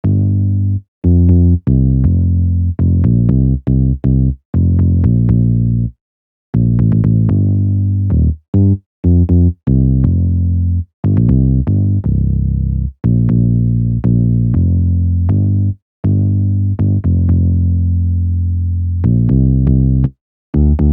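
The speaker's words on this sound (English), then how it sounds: "and it is the Peaky Stanley bass from S-Band 2." Peaky Stanley synth bass patch from S-Band 2 plays a bouncy line of short, punchy notes in rhythmic phrases, with brief gaps between groups, loud and alone without drums or voices.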